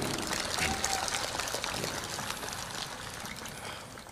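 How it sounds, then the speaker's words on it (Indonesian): Audience applause at a religious gathering in Indonesia, a dense clapping wash that swells at the start and slowly thins out, with faint voices underneath. "Tepuk tangan untuk BTV."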